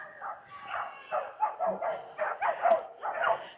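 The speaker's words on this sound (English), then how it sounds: "Those puppies are not happy." Several puppies bark and yip in quick, excited bursts, fairly close, with a whiny edge to some of the calls, in Budva, Montenegro.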